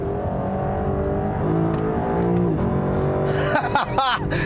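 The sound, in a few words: V8 sports car exhaust revving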